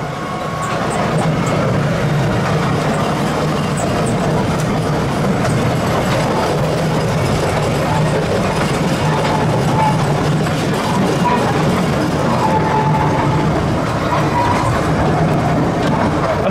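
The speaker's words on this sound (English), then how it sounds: "Train's running today, I should hope so, I'm on it." A miniature park train at Billing Aquadrome rumbles steadily along the tracks with a constant low roar and faint rhythmic clatter, loud and close, with no talking.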